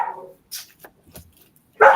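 A dog barks a few times in short, sharp bursts separated by quiet gaps, fairly close, with a louder bark at the end and no speech.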